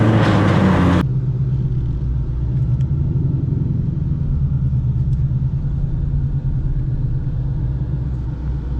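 Ford Mustang engine idling with a steady low rumble after a loud burst at the start, running alone without voices in a garage.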